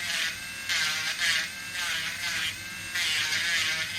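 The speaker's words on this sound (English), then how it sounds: "turn my rotary tool on. I just go over the edge ever so slightly." A small handheld rotary tool buzzes steadily as it lightly smooths the edge of a polymer clay earring, a close, high whirring hum that rises and dips slightly as the bit touches the piece.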